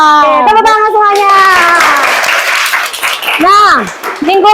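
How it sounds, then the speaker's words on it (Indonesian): Classroom applause from students, with a burst of clapping through the middle under loud children's voices calling out and chattering near the start and end. "Tepuk tangan semuanya."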